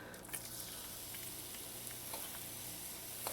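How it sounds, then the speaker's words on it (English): Garlic sizzling in hot sesame oil in a pan, a steady crackling hiss with occasional sharper pops, close and alone without talk. "When your oil is nice and hot,"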